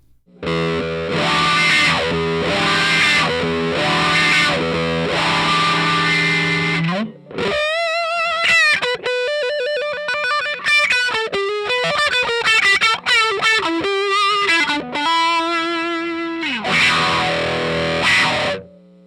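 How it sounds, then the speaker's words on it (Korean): Loud, distorted electric guitar plays chords and then melodic lines through a Dunlop Cry Baby wah pedal, with a sweeping, vocal-like filtered tone shifting across the notes. "크라이 베이비는 와우 소리의 기준이라 할 수 있는 강렬한 울보 페달이죠"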